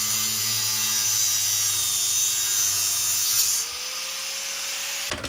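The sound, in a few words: cutting down a long bolt on a 1976 BMW 2002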